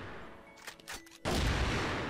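An AWM sniper rifle fires in the shooter game CrossFire, a sudden loud boom that breaks out of quieter game ambience and sustains a dense roar of noise for about a second.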